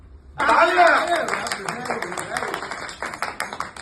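A small audience at a Hindi poetry reading claps in a brief burst that starts suddenly, dense at first and then thinning into scattered claps, with voices talking underneath.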